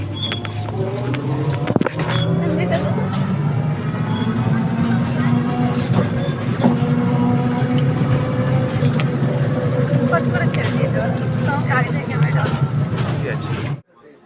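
Steady interior rumble of a moving train, a continuous low roar with rattles and a sharp knock near the start, loud and close throughout before cutting off at the end.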